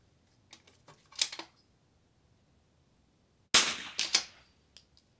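Two bursts of .22 rifle fire at an NRL22 precision match: a few sharp cracks early, a gap of quiet, then a loud clustered volley with a couple of fainter trailing shots.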